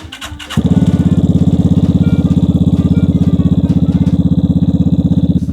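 A Vespa scooter with a straight pipe exhaust and a cold air intake fires up after a few brief cranks and settles into a loud, close, rapidly pulsing idle.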